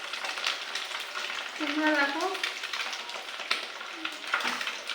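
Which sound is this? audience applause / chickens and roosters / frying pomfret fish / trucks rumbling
frying pomfret fish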